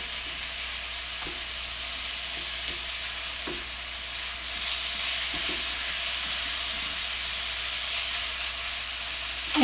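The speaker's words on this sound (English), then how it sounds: "While my sausage is over here cooking" Sausage cooking on a countertop burner, giving a steady, even sizzle and frying hiss with a few faint soft clicks, no talk.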